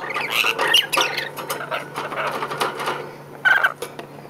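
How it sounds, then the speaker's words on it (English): A rainbow lorikeet kept indoors gives bursts of harsh, chattering squawks, a cluster near the start and another brief burst toward the end, fairly close and moderately loud. "So now that leaves just Bobo, who is a rainbow lorikeet"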